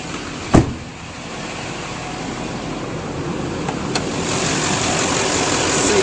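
2006 Chevrolet Silverado 2500 crew cab truck engine idling after a short click, a low steady rumble that holds evenly and grows slightly toward the end.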